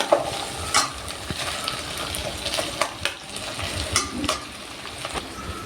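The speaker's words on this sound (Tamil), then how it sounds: "ஒரு அஞ்சு நிமிஷம் நல்ல ஃப்ரை பண்ணுறேன் இந்த கத்திரிக்காயும் வெண்டைக்காயும் நல்ல சுருங்குற அளவுக்கு" Brinjal and okra sautéing in a pan for a Tamil mor kuzhambu, a constant close sizzle with repeated scraping stirs and light clinks of utensil against the pan.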